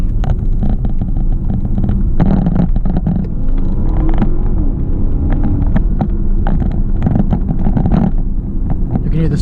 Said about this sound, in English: You can hear this turbo spooling up.